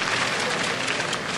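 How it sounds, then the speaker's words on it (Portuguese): Tennis crowd at an outdoor clay-court final applauding, a brief, dense and fairly loud burst of many hands clapping, continuous throughout with faint voices mixed in. "Agora o pessoal aplaude."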